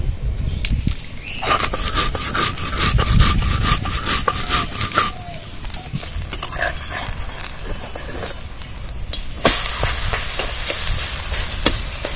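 White mustard seeds and green chillies are ground by hand on a stone grinding slab, a rough rhythmic scraping and rubbing that repeats back and forth, close and fairly loud.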